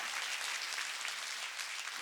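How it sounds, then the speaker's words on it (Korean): A congregation at a Korean church revival gathering breaks into dense, steady applause, many hands clapping together in a continuous wash of sound. "박수로 하나님께 해야 돼요."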